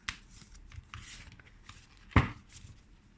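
A Tazama tarot deck with velvety, gold-gilded cards being handled, giving soft close rustles and slides of card stock with one sharper snap partway through.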